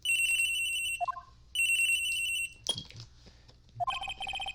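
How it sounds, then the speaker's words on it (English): A cell phone ringtone from the Phoenix Wright: Trials and Tribulations video game plays in loud, repeating electronic bursts with brief gaps, alone and without talk. "Around 12:30, I received a call on my cell phone."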